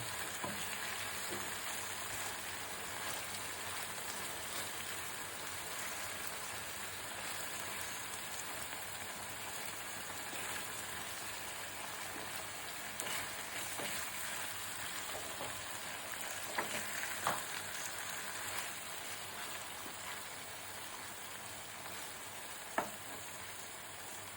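Prawns (chingri) for a malaikari curry frying in a pan with slit green chillies, a steady dense sizzle throughout with occasional soft knocks and clinks as the pieces are slowly turned over.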